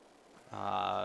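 A single loud cow moo rises abruptly halfway through and holds steadily to the end, sounding from cattle kept in a barn in the Farming Simulator 22 video game.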